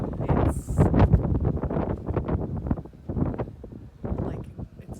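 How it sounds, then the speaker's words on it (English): Strong wind gusting during a heavy snow blizzard in central New Jersey, roaring and buffeting the microphone in loud bursts throughout, with a brief lull near the end; someone talks underneath. "It's heavy, it's super windy"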